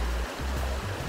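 A river flowing in a wild, spectacular landscape, a steady broadband rush of moving water heard close and fairly loud, with no voices over it.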